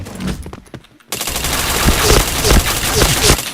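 Gunfire erupts in the Point Blank shooter game, a few sharp shots followed by a loud, continuous burst of rapid fire and layered blasts that runs to the end.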